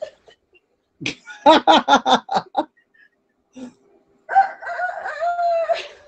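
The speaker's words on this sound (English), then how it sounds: "That's actually a rooster." A rooster crows in a series of short, loud, rhythmic bursts, followed by a longer drawn-out call, close by with quiet gaps.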